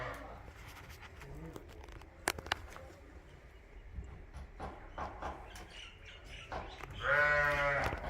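Sheep bleat at a farm feeding place where feed is being given out, with one loud, drawn-out bleat near the end standing above a steady background of clatter and fainter animal noise.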